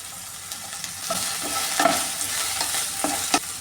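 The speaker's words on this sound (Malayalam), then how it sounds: "ആദ്യം ഈ വെണ്ടയ്ക്ക ഒന്ന് ഫ്രൈ ചെയ്തെടുക്കാമേ" Okra fries and stirs in coconut oil in a pan, giving a steady close sizzle with scattered scraping stir sounds.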